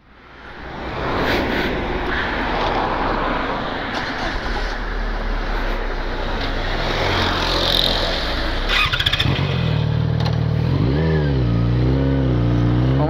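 A Yamaha XJ6 motorcycle on a ride toward Balneário Camboriú roars steadily under heavy wind rush, then its engine revs rise and fall in repeated accelerating sweeps near the end, loud and close.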